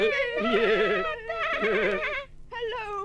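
A voice imitates a sheep's wavering bleat in three drawn-out, quavering calls, close and loud, with brief pauses between them.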